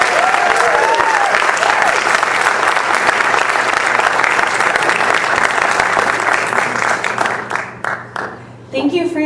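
Sustained, loud audience applause at a 2012 congressional campaign event, dense clapping filling the room throughout before thinning and fading near the end.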